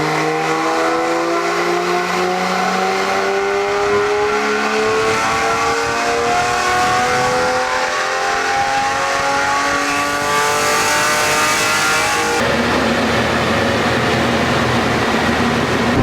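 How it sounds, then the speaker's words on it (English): BMW E82 135i revving hard on a dyno power run, engine pitch climbing steadily through the gears in a loud, close, continuous pull before cutting off near the end. "we've just done the first run on the dyno to see kind of where the car's at"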